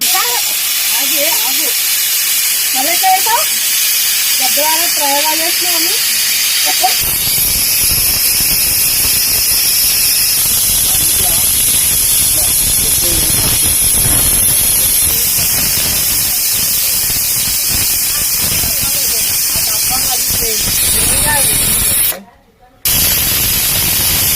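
A pressure cooker whistle: a loud, continuous jet of hissing steam roars for a long stretch, with faint talk at first, then cuts off abruptly near the end.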